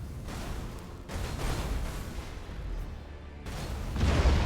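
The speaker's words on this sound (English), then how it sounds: "torpedoes hit the wreckage" Torpedoes striking ship wreckage in Battlefleet Gothic: Armada 2, a space fleet battle game: a run of dull, rumbling explosive impacts arrives in waves over a constant low background roar, with no talking.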